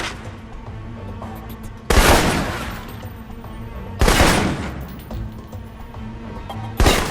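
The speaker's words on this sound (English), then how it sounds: "For long-range encounters, the assault rifle's the key." Assault rifle fire in Alpha Protocol, heard as three loud separate bursts of rapid shots, each ringing out and decaying over about two seconds, with quiet stretches between.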